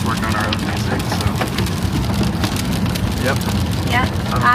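Steady, dense rainfall during a severe thunderstorm watch, a continuous even hiss with a low rumble and no talking.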